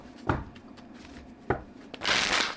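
Tarot cards shuffled by hand at close range, with two quick riffling bursts followed by a longer, louder flutter of cards near the end.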